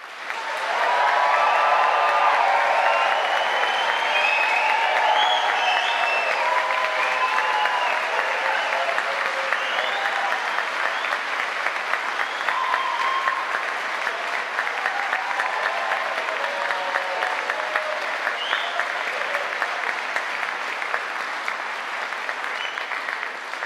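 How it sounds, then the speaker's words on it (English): A graduation audience at Liverpool University claps and cheers in sustained, dense applause that rises quickly and holds strong for over twenty seconds, with whoops and shouts scattered through the crowd. "I want to hear one more cheer and round of applause from all of you"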